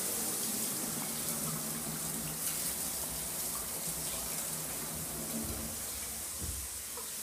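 A toilet flushes in a master bathroom during a home inspection, though the bowl does not clear, giving a loud, continuous rushing and gushing of water, close by, with no talking.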